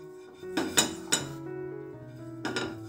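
A metal pan set down on a kitchen stove while making breakfast, giving a few sharp clanks and clinks over about a second, followed by a quieter ringing hum and one more clatter near the end.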